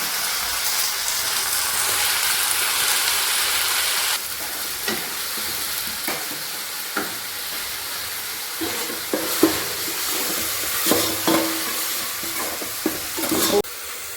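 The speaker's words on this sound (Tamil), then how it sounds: "இந்த பேஸ்ட்டை வந்து இதில் ஆட் பண்ணிக்கலாம்" A ground paste of ginger, garlic and fennel sizzles loudly in a pan for pepper chicken curry, a steady frying hiss overlaid by scattered clinks and scrapes of stirring, with no talk.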